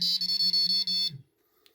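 A Prologic 4+1 carp fishing bite alarm sounds a shrill electronic tone in rapid pulsing beeps for about a second, then cuts off to near silence.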